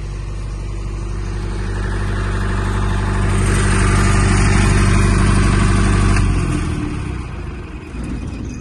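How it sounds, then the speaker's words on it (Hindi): A loud, steady Mahindra silent diesel generator engine drones nearby with a deep rumble, swelling slightly in the middle before easing off toward the end. "इंजन स्टार्ट है, हम इतना नजदीक खड़े हैं तो भी आप इसका साउंड लेवल देख सकते हैं"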